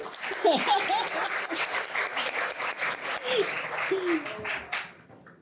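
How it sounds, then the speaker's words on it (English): Audience applause at a leadership lecture event, steady dense clapping throughout for about five seconds, fairly loud, with a brief murmur of voices before it fades at the end. "give her a clap."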